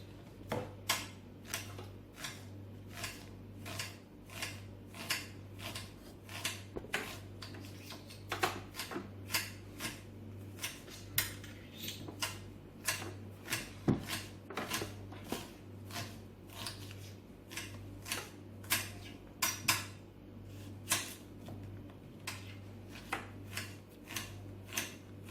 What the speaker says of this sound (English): I have my 2 onion now. I'm going to slice them up. I'm going to use a nice sharp knife.